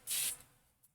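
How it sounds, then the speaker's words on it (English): A fine mist sprayer gives one short, close, hissing burst while decorating etched butterfly shadowboxes, followed by a faint second puff. "So I'm taking my fine mist sprayer, and I'm just going to finely mist."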